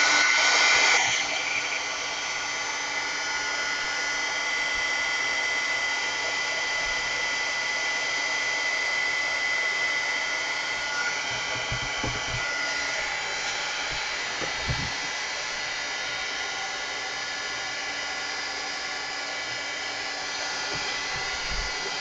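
A hair dryer runs steadily to dry paint on a mixed media layout, a continuous close, loud whir with no talk.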